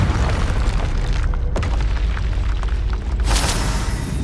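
A Confringo fire curse explodes in Hogwarts Legacy amid continuous loud combat noise, with booming blasts throughout and a sharp burst near the middle and another toward the end.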